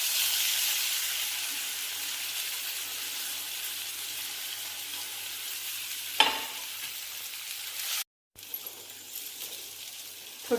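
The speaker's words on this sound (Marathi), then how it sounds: "नंतर भरलेली कारली सर्व टाकूया." Stuffed bitter gourds (karela) fry in hot oil tempered with cumin and mustard seeds, making a steady, close, bright sizzle with one sharp clunk partway through and a brief cut-out near the end.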